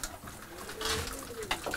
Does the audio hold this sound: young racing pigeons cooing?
yes